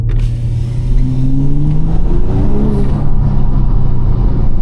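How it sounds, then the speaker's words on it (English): A BMW X3 M50 (G45) in sport mode revs hard and loud, its exhaust droning with rising and falling pitch as it accelerates, steady and close throughout. "let's put this into sport. Let's see if we can hear this exhaust"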